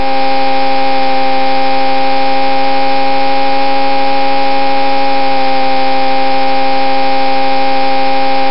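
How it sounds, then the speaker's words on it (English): Indy car engine from the arcade video game Al Unser Jr. Arcade Racing, a steady, unbroken synthesized buzzing drone that holds one pitch for the whole stretch without rising or fading. "sounds like an Indy car."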